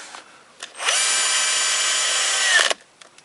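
A preset power driver tightens a screw on a Power Wheels ride-on toy gearbox, one short steady high whir of under two seconds, framed by faint clicks and handling noise.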